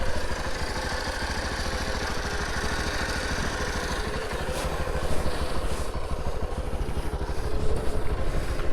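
A motorcycle engine churns loud and close on a rough Himalayan mountain trail at Nagthali while the bike sits caught on a stone, a steady throbbing rumble that swells slightly toward the end with no talk.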